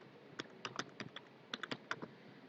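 Quiet computer keyboard typing, an irregular run of light clicky keystrokes in short bursts, close and soft with no talking.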